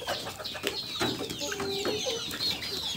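Roosters cluck and call close by in a farmyard, a busy overlapping run of short clucks and squawks with little talk.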